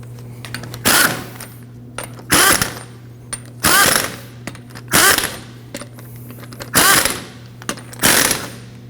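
A power tool tightens rear shock absorber bolts on a 2015-2022 Chevrolet Colorado, firing six loud, sharp bursts about a second and a half apart over a steady low hum.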